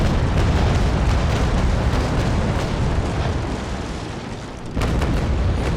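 Naval Action warship broadside from the Bellona, a dense, sustained roll of heavy cannon booms blending into one loud rumble, dipping briefly before another burst of fire swells back in.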